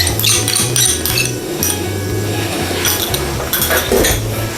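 Chicken wings being stirred with chicken powder and oyster sauce in a pan, with a utensil clinking and scraping against the metal in a steady, busy rhythm close up.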